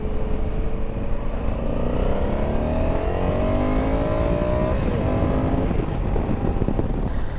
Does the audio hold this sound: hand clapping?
no